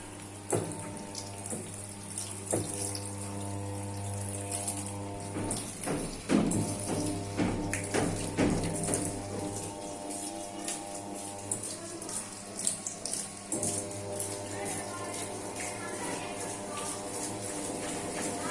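Water flows into an automatic washing machine during its rinse cycle, a steady close hiss of running water over a low machine hum, broken by occasional thumps and knocks.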